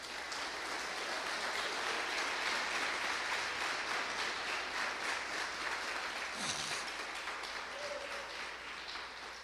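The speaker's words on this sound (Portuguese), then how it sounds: "Bate palmas para Jesus." Church congregation clapping steadily together throughout, a dense, continuous wash of applause with no break.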